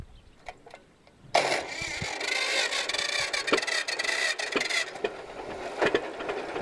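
An old Minneapolis Moline tractor engine with a rebuilt magneto, flooded, catches after a few quiet clicks and settles into a loud, steady rough running roar nearby.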